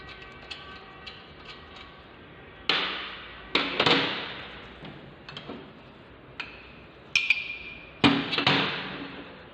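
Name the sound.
unscrewing a brake part bolt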